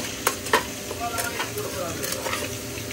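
Chicken cooks in a hot pan, giving a steady sizzle while a spoon stirs it with a few scraping clinks, close and moderately loud.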